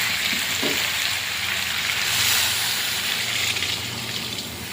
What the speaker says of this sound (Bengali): এই দেখুন, এবারে জল দিয়ে দেবো